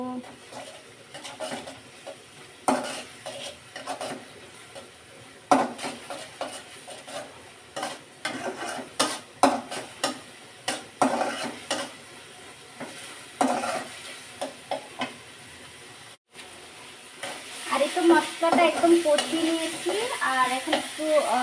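A spatula scrapes and stirs chili powder and salt in a frying pan for egg curry, with irregular clacks and scrapes over a low sizzle that grows louder and busier toward the end.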